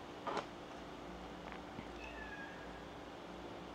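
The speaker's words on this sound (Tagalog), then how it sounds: "Naku, may pusa sa labas." A cat meows outdoors, a single short, faint call heard early in the clip over a steady background hum, with a few soft, distant chirps afterward.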